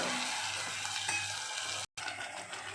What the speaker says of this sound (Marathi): तेल सुटेपर्यंत चांगलं आपल्याला हे परतून घ्यायचं आहे मसाला